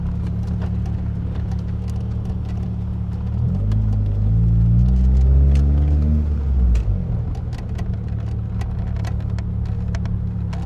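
The power convertible roof of a 1999 Mitsubishi Eclipse GS Spyder motors upward over an idling engine, a low whirring drone that rises and falls for a few seconds, then settles back to the steady idle.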